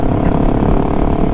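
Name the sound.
Husqvarna 701 Supermoto motorcycle engine while cruising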